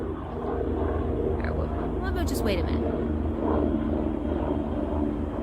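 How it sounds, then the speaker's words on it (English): A helicopter passes overhead outdoors, producing a steady low rumble that stays under a person's talking throughout. "You can probably hear the helicopter"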